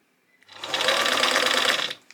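Sewing machine running a steady stitch along a gingham shirt seam, a close, even whirring buzz of about a second and a half that starts and stops cleanly, with no voices.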